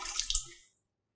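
Water poured into a KitchenAid stand mixer bowl fitted with a dough hook, a short splashing gush for about half a second that fades to silence.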